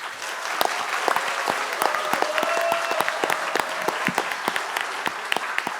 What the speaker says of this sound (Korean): 뜨거운 박수와 함께 우리 자축하시죠